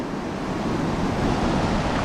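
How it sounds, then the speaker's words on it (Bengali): Sea waves break steadily on the beach at Cox's Bazar, a continuous broadband roar of surf with wind noise on the microphone, loud and close throughout with no voices. "এই সমুদ্র পাড়ের এই সমুদ্র শব্দ শুনলে আর মনটাই ভালো হয়ে যায়"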